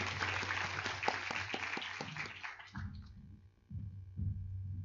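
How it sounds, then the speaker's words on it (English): Applause from the audience at the opening ceremony of a model United Nations conference, a burst of claps that thins out and fades, followed by a low steady hum and a few soft noises. "Big round of applause for Ms. Aline."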